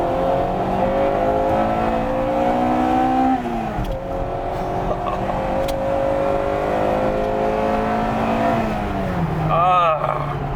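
A Honda Integra Type R DC2R engine revs hard to high RPM, its rising harmonic whine climbing and holding near and loud, then briefly dropping before climbing again, with a person talking over the engine.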